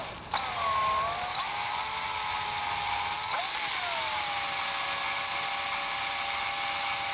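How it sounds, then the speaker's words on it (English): Power drill spinning to twist lengths of wire together for a Jeep Wrangler YJ sound bar refurb; a high steady electric whine that dips in pitch as the load grows, close and alone. "There'll come a point whenever you're cranking that, you're spinning your drill, that you'll feel the wire start to pull towards you"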